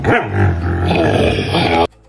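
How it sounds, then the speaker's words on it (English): A husky dog growls in a short, close, loud rumbling snarl lasting under two seconds before cutting off abruptly. "These dogs are so cute."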